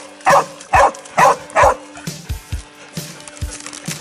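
Hunting dogs during a goat cull bark in four loud, evenly spaced bursts close by, then trail off into a run of shorter, quieter yips and whimpers.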